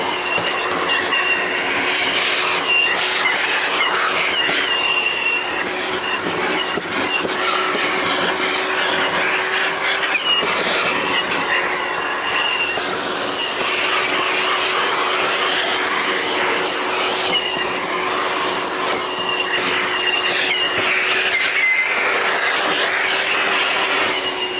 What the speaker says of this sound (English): So I need to plug this in and do a little vacuuming.